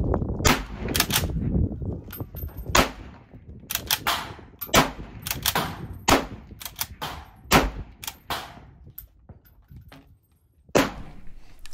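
A Swiss K31 straight-pull bolt-action rifle fires a rapid string of sharp, loud cracks at close range, a dozen or so spaced roughly half a second to a second apart, with brief gaps of ringing between them.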